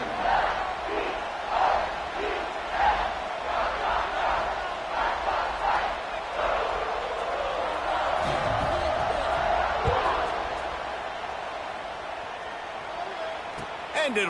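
Stadium crowd noise in a college football video game, Tulsa against Fresno State, a steady loud roar with rhythmic chanting swells, heard under a play-by-play commentator's voice.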